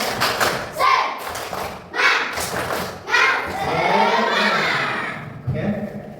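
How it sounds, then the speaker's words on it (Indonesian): Sixth-grade schoolchildren perform the tepuk semangat clapping cheer, a patterned sequence of rhythmic group claps and thumps in bursts, with children's voices chanting along between the beats. "Sekali lagi, tepuk semangat."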